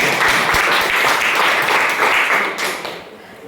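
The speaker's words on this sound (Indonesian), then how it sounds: "Mari kita beri tepuk tangan yang meriah" Classroom applause for a student group, the blue group, after its presentation in a lesson on matrix inverses. Lively clapping from many hands goes on for about two and a half seconds, close and loud, then thins and fades.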